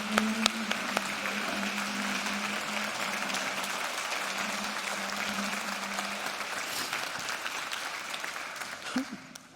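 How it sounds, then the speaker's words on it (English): A luncheon audience at a ministry event claps and cheers for its ambassadors, sustained applause with a few whoops early on, a steady crowd roar that tapers slightly toward the end, with voices mixed in. "You can cheer for them."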